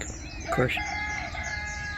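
A rooster crows once in the distance in Hawaii, short and mid-pitched, against a quiet outdoor background with a faint steady tone lingering after.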